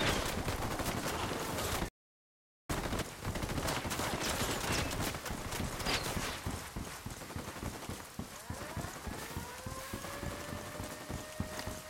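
Sniper gunfire in Ghost Recon Wildlands comes as sharp, irregular cracks over a constant rumbling game backdrop, broken by a brief dropout, with a rising whine near the end.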